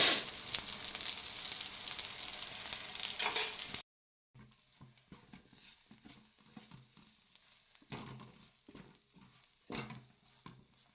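Eggplant fries in a pan on low heat, a dense sizzling hiss at first, then after a short gap a quieter simmering crackle with scattered stirring scrapes and soft utensil knocks.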